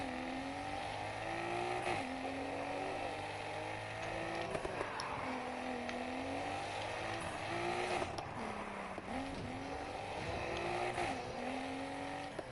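A Nissan Skyline engine revs repeatedly in a racing game, rising and falling in pitch through gear changes with steady loud engine drone and tire noise, no talk over it.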